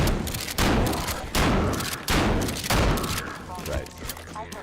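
Grenades blow up in a video game, several loud bursts of gunfire-like booms in quick succession, each roughly half a second apart, dense and close, fading into lighter scattered pops near the end.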